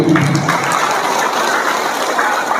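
An audience at a religious gathering gives a burst of applause, a dense, steady wash of clapping heard close and fairly loud, with a brief voice at the start.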